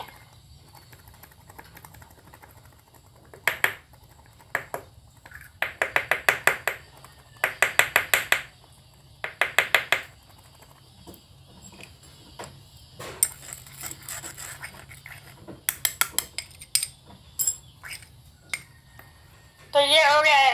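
Ingredients being mixed and rubbed in a small washable container with a coin added, giving intermittent bursts of scraping, rubbing and tapping in short clustered rhythms against a quiet background, with no voices.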